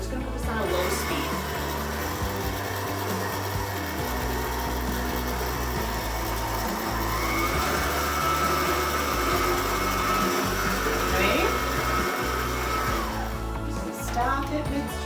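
Electric mixer whirring steadily on low speed through berry shortcake batter, a continuous motor drone with a slight rise in pitch midway and clattering near the end, close and fairly loud.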